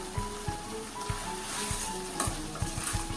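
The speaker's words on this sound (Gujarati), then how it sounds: "આ તબક્કે આપણે ગ્રેવીને બટેટા સાથે મિક્સ થવા દઈએ અને થોડું ચડવા દઈએ" Potatoes simmering in a curd gravy in a pan, heard as a quiet bubbling sizzle with regular soft knocks and scrapes of a stirring spoon against the pan.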